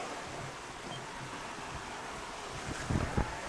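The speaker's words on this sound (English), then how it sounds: "we're sailing this way and the squall is going that way" Wind and waves during a squall on a sailing boat heading to Cooktown, a steady rushing gust over the mic with water sloshing and a few louder thumps from the hull near the end.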